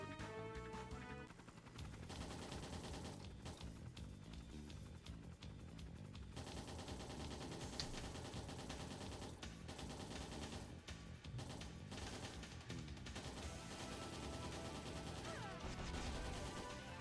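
Dense, rapid bursts of gunfire and crashing impacts from the game Trails in the Sky rattle on continuously and loudly for many seconds, layered over game music, with no one talking.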